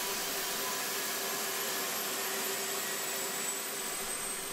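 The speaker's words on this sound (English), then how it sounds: "The engine is fully throttleable and can run all day without supplemental cooling" MiniLab gas turbine engine by Turbine Technologies running steadily, a loud, continuous jet-like roar with a high whine and broad hiss that holds unchanged throughout.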